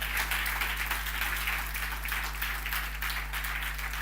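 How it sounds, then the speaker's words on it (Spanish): Church congregation clapping together during a sermon, a steady wash of applause at moderate level over a constant low electrical hum, continuing evenly for a few seconds. "Dale un aplauso al Señor nomás."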